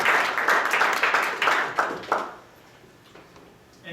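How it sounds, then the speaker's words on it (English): A small audience at a SwiftUI programming presentation gives a short burst of clapping, several distinct claps that taper off after about two seconds into quiet. "Should we clap?"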